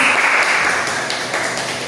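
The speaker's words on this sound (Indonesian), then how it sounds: "Tepuk tangan pada Ananda." Dense, steady applause from a classroom of eighth-grade madrasah students clapping for a classmate during an Islamic prayer lesson. It stays close and fairly loud throughout, with no talk over it.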